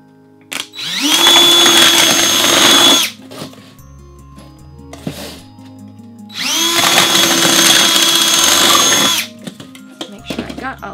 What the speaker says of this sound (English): So let's drill our holes.